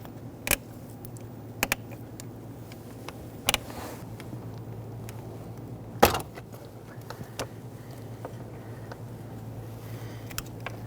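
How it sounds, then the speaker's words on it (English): A pocket screwdriver pries out the tab on a hood release handle of a 2011-2023 Dodge Charger, making a few sharp, separate plastic clicks and snaps over a low, steady background hum. "once you put your pocket screwdriver in here, you're going to pry out"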